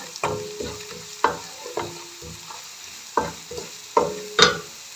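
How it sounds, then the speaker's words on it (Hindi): Onions and garlic frying in a pan for an egg dish, a soft steady sizzle broken by repeated scraping knocks of stirring at an uneven rhythm, close and fairly quiet, no talking. "यहाँ पर प्याज जो है हमारा वो लाइट सा ब्राउन होना स्टार्ट हो गया"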